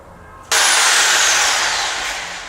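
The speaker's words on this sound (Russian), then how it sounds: "Перфоратор меньше греется." A rotary hammer drills loudly and steadily into the floor during a floor installation with joists and anchors, starting abruptly and running continuously up close.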